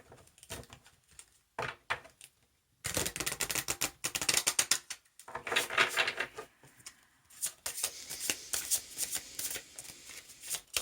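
A Sacred Light Oracle deck is shuffled by hand in close, papery bursts of riffling and sliding cards, separated by short pauses, the longest stretches coming in the middle and near the end.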